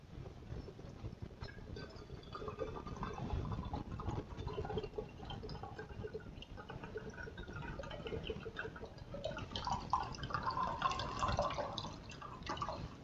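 Coconut water trickling and dripping out through a coconut opener, an uneven run of splashy drips that grows a little fuller toward the end, heard without speech.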